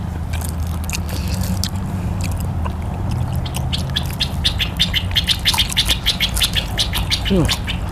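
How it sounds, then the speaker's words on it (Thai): Birds chirp and tweet in quick, bright bursts, growing busier toward the end, over a low background rumble outdoors. "เสียงนกพร้อมเลยพี่น้อง"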